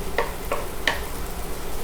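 Vegetables sweat in a pan over medium-high heat with a soft steady sizzle and three quick stirs or scrapes close by, and no talking.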